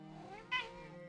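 A cat gives a single short, throaty meow close by, rising briefly over a low steady background hum.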